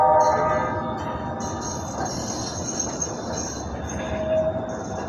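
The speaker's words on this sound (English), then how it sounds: "It's always one or two trains coming down this track." A rail train rolls along the track beneath a downtown Houston highway, with steady wheel rumble and high squealing from the wheels, close and continuous, no voices.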